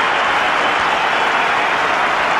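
Stadium crowd at a 2004 India versus Pakistan one-day international applauding VVS Laxman's fifty, a steady, dense wash of clapping and cheering that fills the whole moment without a break.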